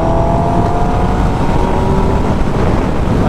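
A Kawasaki ZX10R superbike engine revs hard toward 6000 RPM, a steady loud drone with rushing wind noise that stays constant throughout, with no talk.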